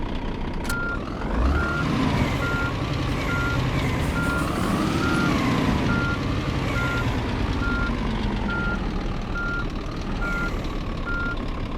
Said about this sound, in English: Back it up to this trailer.